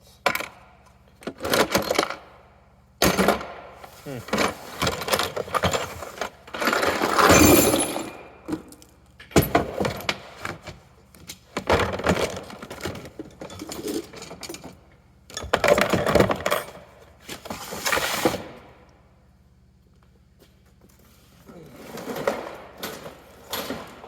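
Metal Allen sockets clink and rattle in a big bin of auction machining tools, with repeated bursts of bright jangling and clattering separated by short pauses, close and fairly loud.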